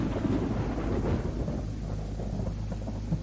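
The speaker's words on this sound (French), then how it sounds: "Un orage avait éclaté au-dessus de cette ville fantôme" Thunderstorm breaking over a ghost town in the video game DayZ, a deep rolling thunder rumble swelling early then easing into steady rain hiss, loud and close with no talk.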